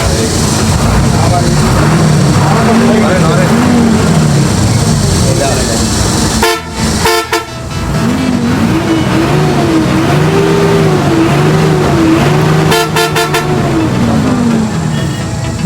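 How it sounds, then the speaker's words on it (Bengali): A fifteen-year-old Hino bus engine idles and revs loudly and close, its drone rising and falling steadily, cut by two short bursts of horn honking; a voice is heard over the engine noise. "এরপর আমি নিজেই স্টিয়ারিংয়ে বসে গাড়িটিকে স্টার্ট করলাম"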